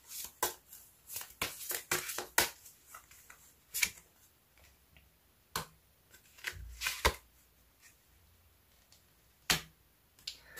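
Tarot cards being shuffled for a draw, a series of quick riffling bursts and sharp card snaps, irregular and close, with pauses between handfuls.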